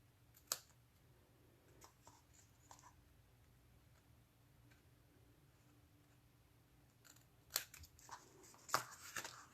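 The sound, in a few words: trimming the bottom of a craft piece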